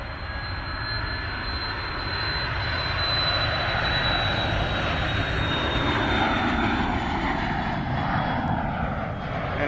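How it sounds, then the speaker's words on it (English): A corporate jet takes off from an airport runway, a loud sustained engine roar with a high whine that stays steady and close for the whole stretch, with no talk. "And off goes the corporate jet."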